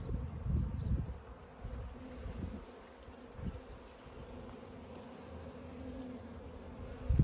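Honey bees hum softly on a hive frame, a faint low continuous buzz with a few brief swells as insects pass close, no talking.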